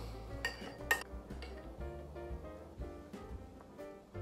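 Cutlery clinks and scrapes on a plate during a waffle, egg and sausage dinner, a few sharp taps standing out over a soft room hum, close and quiet.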